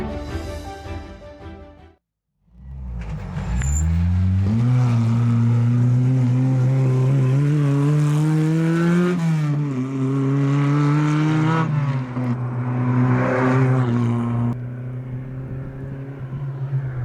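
Alpine A110 sports car engine pulls hard and revs, a loud, close rasping drone rising and falling through gear changes after a short gap of silence, with no voices.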